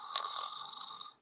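A person imitates a bear's snore in one short, breathy rasp, soft and close, without any talking around it.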